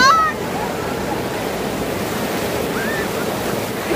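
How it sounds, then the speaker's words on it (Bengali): Sea waves wash continuously onto Digha beach, a steady broadband surf roar with wind noise against the microphone, with a brief voice at the start. "আমি এখন রয়েছি দীঘা সমুদ্র সৈকতে।"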